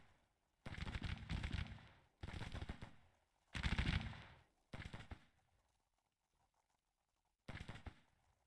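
Civil War musket volleys in the strategy game Grand Tactician, rolling crackling bursts of massed fire in five separate waves with quiet gaps between, loud and close, no talk.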